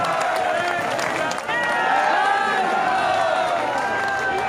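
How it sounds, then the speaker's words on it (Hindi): Applause and crowd noise from an audience at a Bharat Bachao Andolan rally stage event in Delhi, welcoming a guest, sustained and dense with a brief dip, mixed with chatter and music-like tones. "एक बार जोरदार तालियों से स्वागत करेगा"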